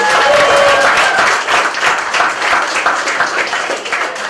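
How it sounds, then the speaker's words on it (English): Loud audience applause at a celebration after a group presentation, dense clapping that surges at first and then continues evenly with a few faint cheers mixed in. "Everyone give them a round of applause for sharing"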